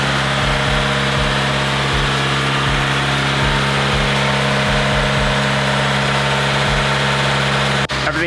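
Subaru WRX 2015+ engine idling after a front-mount intercooler install with the bumper off: a loud, steady close-up drone with a regular low pulsing, a brief knock near the end, no talking.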